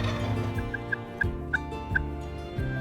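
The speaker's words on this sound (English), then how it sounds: "he just walked away gobbling" Wild turkey gobbler gobbling outdoors, a rapid rattling call with a few bright clucking notes, moderately near over steady background noise.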